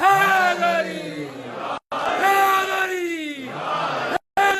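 At a religious majlis gathering, a crowd chants the slogan "Haidari" in loud, drawn-out unison shouts that swell and fall in repeated waves, with two brief dropouts between calls.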